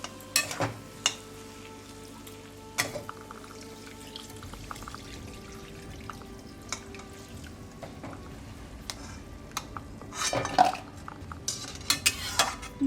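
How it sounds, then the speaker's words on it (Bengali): Hot water poured into potato curry in a pan for kachori: a soft steady sizzle and bubbling with occasional clinks of a spoon against metal, close and fairly quiet, no talk. "এবার আমি এর ভেতর গরম জল দিয়ে দেবো।"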